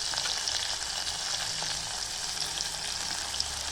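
Tomatoes frying in oil with red chilli powder and spices for a vada curry, a soft, continuous sizzle that stays even throughout, fairly quiet and without speech.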